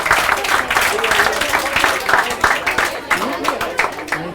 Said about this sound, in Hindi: तालियां बजती रहनी चाहिए, बहुत कमी है तालियों में।